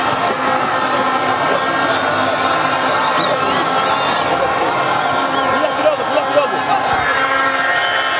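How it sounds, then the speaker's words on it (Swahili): Simba supporters celebrate a championship in the streets of Jangwani, Dar es Salaam, with a steady, dense outdoor crowd noise and cheering under a continuous speaking voice. "Shangwe la mashabiki wa wekundu wa Msimbazi Simba katika mitaa hii ya Jangwani, wakiwa wanashangilia kupata ubingwa."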